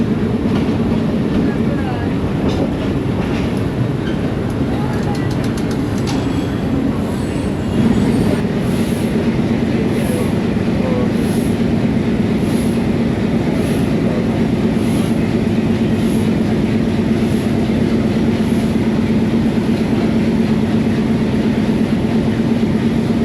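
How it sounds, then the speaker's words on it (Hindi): A passenger train pulls away from a hill-country junction station on the Rawalpindi to Havelian line, with a loud continuous rumble of rolling wagons and wheel noise, a faint repeated high squeal, and background voices. "2 मिनट स्टॉप करने के बाद गोलराशी जंक्शन से डिपार्चर हो गया"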